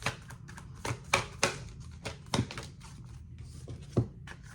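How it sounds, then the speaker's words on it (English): Oracle cards from a Starseed Oracle deck are pulled and handled close up, giving a scattering of soft taps, slaps and rustles at an irregular pace with no talking. "Just pulling some oracle cards for you."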